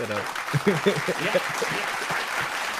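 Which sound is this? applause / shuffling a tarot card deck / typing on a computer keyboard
applause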